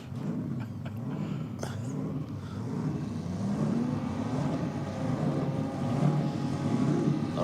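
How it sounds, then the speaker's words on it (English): An EL taxi car with a 4-litre single-cam engine at a race event, heard as a steady low engine drone that swells slightly toward the end, blended with outdoor crowd ambience. "Sounds the 4-litre single cam down there"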